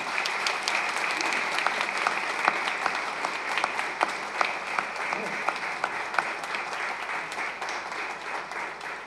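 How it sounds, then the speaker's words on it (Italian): A church congregation applauds Monsignor Nolet during a Mass at San Severino Lucano, a sustained wash of clapping with a few sharp individual claps standing out and faint voices underneath. "Io farei l'applauso a Monsignor Nolet."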